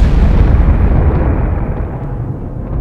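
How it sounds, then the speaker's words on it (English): A violent supernova explosion rendered as a sound effect: a loud, continuous roaring boom with dense low rumble that holds steady throughout, with no voices. "blasted by a violent explosion,"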